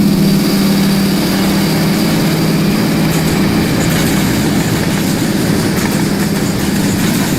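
Freight train in the Rolling Line video game, a manifest hauled by C40-8 diesel locomotives, giving a loud, steady low engine rumble with a droning hum, continuous and without talk.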